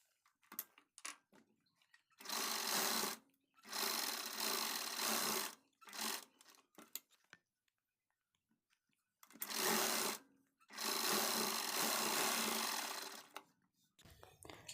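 A sewing machine stitches a blouse sleeve in several close, rattling bursts of one to three seconds, separated by pauses filled with light handling noises of the fabric.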